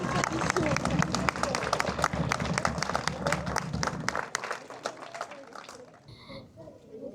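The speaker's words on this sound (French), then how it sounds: "on peut applaudir la jeunesse" An outdoor crowd at a ceremony claps for the youth, lively, close applause with distinct individual claps and chatter, dying away after about four seconds into murmuring voices and a brief whistle-like tone.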